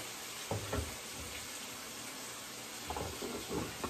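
Onion dropped into a hot pot for vegetable beef soup, giving a faint, steady sizzle with a few soft knocks and stirring bumps, heard alone without talk.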